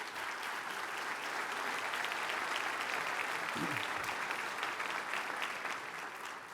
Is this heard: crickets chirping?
no